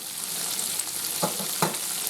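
Green beans cook in a pan under an even, close frying sizzle, with two or three soft stirring knocks standing out midway.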